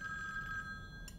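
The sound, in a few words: telephone ringing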